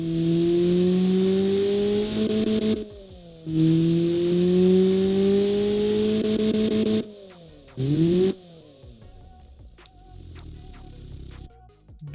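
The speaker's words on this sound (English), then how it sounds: "let's fire up the engine so we can hear it. So let's hear the stock exhaust noise." A Ford Transit's stock four-cylinder engine with factory exhaust idles, then revs up in two sustained pulls with brief gaps between, followed by a quick blip and a drop back to a quieter idle.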